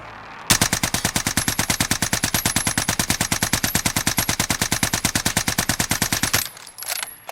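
A C58 assault rifle fires in Call of Duty Warzone, one long sustained burst of rapid, evenly spaced loud shots lasting about six seconds, then stopping abruptly with a brief trailing clatter.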